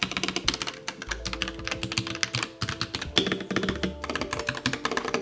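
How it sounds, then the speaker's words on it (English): Rapid typing on a Royal Kludge RK84 mechanical keyboard, close and crisp, with dense clacky keystrokes in bursts and brief pauses, no voices. "The typing experience on here is actually really enjoyable"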